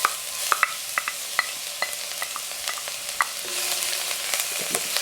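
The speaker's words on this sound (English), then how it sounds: "So in there we've got coconut oil. You can use whatever oil you want. I'm going to chuck in my onions." Onions crackle softly in coconut oil in a pan, a gentle sizzle broken by sharp scrapes and clicks from stirring at irregular intervals.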